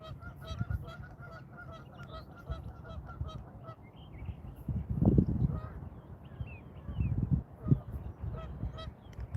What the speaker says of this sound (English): Got some geese out here.